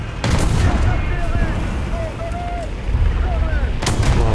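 Artillery strike in War Thunder ground battle: deep booming rumble and distant blasts fill the whole stretch, with sharper cracks near the start and end, loud and continuous.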